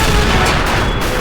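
A grenade explosion in a toy war battle scene set in an urban town: one loud, sustained blast that fills the whole moment, rough and booming like artillery fire, with no voices.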